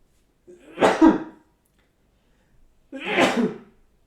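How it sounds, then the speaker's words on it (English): Two sharp sneezes, close and loud, separated by a short pause of silence. "I'm gonna sneeze"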